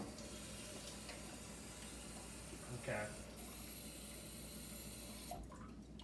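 Tap water runs steadily into a kitchen container while making meatball sauce, a soft continuous hiss and splash with a brief spoken word partway through.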